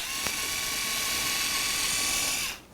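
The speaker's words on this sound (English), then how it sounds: "you put your pilot bit in, so then we can go ahead and drill a hole for it" A Festool Ti-15 hybrid impact driver fitted with a Centrotech adapter and pilot bit whirs steadily as it drills a pilot hole, a sustained high motor whine close by that cuts off abruptly near the end.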